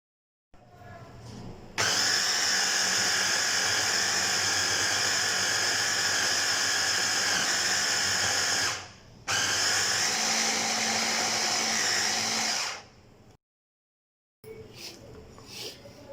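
An electric chopper grinds a lentil and beef kabab mixture in loud, steady bursts, whirring for about seven seconds, cutting out briefly, then running another few seconds before a short pause and a quieter final run.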